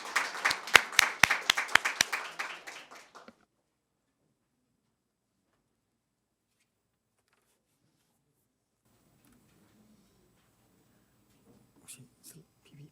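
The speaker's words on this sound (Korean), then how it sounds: "박수 한번 쳐드려야 될 것 같은데요." A small seminar audience claps for a presenter at an agricultural policy forum on the rice industry, a brisk burst of applause lasting about three seconds before near silence and faint movement.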